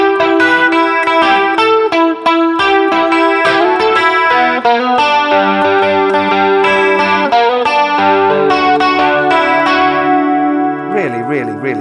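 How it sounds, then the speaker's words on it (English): An electric guitar with chorus effect plays the verse part of a song, a busy, ringing riff of picked chords and lines, loud and close, ending with a wobbling sustained note. "let me give you a playthrough of the verse now"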